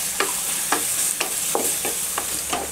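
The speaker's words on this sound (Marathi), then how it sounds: "आता याला एक 2-3 मिनिटापर्यंत छान असा लाईट ब्राऊन होईपर्यंत आपल्याला फ्राय करून घ्यायचा आहे" Onions frying in a pan for chicken curry, a steady sizzle with regular stirring scrapes roughly every half second, close and fairly loud, with no voices.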